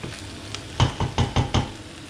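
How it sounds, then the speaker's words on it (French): Onion, garlic and wild boar meat stirred in a sizzling pan for a daube, a steady fry under a few distinct spoon scrapes and knocks against the pan. "Là, je remue un peu"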